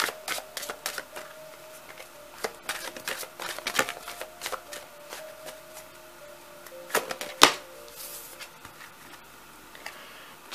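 A deck of tarot cards is handled and shuffled close up, giving a run of soft riffling snaps and flicks of varying loudness, with one sharper slap partway through and no talking.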